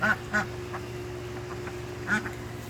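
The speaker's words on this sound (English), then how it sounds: "There's the ducks in there." Several ducks quack in a garden, three short bursts spread over a few seconds against a steady low hum, moderately close.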